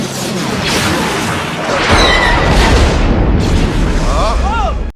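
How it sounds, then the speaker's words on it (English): Death Star superlaser blast in Star Wars: Return of the Jedi, a loud roaring boom with rumbling explosive energy swelling midway and whistling sci-fi tones layered over it, with people talking. "That laser beam that can destroy planets, that's too strong, so powerful."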